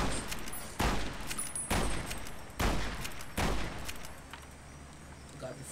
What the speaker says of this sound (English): He is an upgraded brush gun.